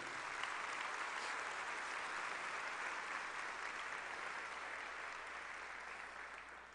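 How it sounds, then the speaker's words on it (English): A school opening-day audience gives a round of applause, a steady wash of many hands clapping from a distance, faint and even, slowly fading over about seven seconds. "How about a round of applause for them?"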